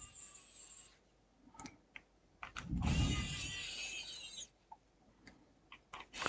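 A power screwdriver drives screws into an Alienware M18 R2 laptop during a motherboard repair, giving a close, steady two-second whir between scattered small clicks and taps of handling.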